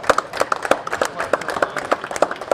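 A person claps their hands in a steady, fairly quick rhythm of about a dozen sharp claps, close and clear, at a live podcast recording at a machining trade show.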